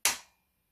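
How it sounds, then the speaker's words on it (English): A torque wrench clicking as it reaches its set torque of 35 foot-pounds on a bolt: one sharp, close click that decays quickly, with no talking. "Now the handle has given a little jolt and it's clicked."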